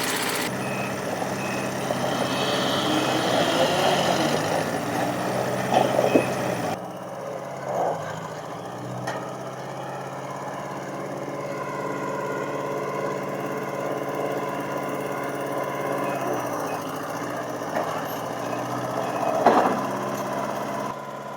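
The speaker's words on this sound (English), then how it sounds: "The scissor lift kind of balks about approaching the trailer and loading" A Grove propane scissor lift runs and drives steadily, its engine a continuous near drone with slight rises and a few brief knocks and clanks as it moves, with no talk.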